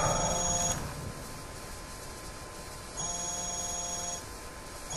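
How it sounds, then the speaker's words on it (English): A phone rings in the video game Hitman: Absolution, with two electronic ringing bursts separated by a quieter gap and no talking over them. "Phone call."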